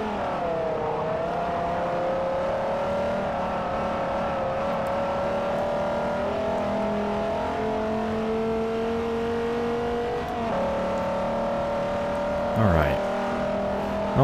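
A Devin GTX race car engine in Forza Motorsport 4 drones steadily at high revs, with a brief shift in pitch partway through and a short squeal near the end, close and continuous.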